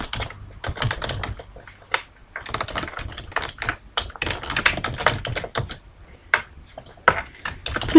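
Fast, irregular keystrokes on a computer keyboard as an email subject line is typed in Outlook, with close, crisp clicks in bursts and brief pauses between them and no voices.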